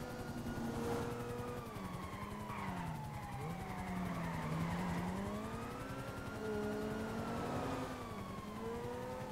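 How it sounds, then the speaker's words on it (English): Police cars in the GTA V video game skid and screech through a chase, with tyre squeals sweeping up and down over a steady engine roar and a faint siren-like wail, continuous and fairly close. "First cop car gets taken out, and the second one comes in to take its place."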